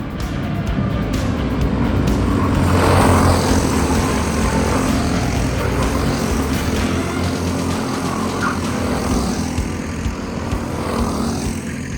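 Racing karts run laps on a track during a legends session before heat races, a loud continuous engine drone rising and falling steadily for the whole stretch with no voices.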